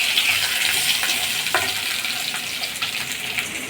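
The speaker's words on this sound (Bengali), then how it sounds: "এটাকে ভালো করে লাল লাল করে ভেজে নেব" Potatoes frying in hot oil for a soybean vegetable dish, a steady broadband sizzle running throughout with a few brief clinks and stirs, close and moderately loud.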